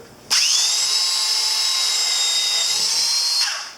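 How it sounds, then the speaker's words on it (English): A belt sander runs steadily for about three seconds on a Yamaha Virago 250 motorcycle seat, a loud, even high-pitched whine and rasp that starts abruptly and then winds down. "start getting the belt sander on it"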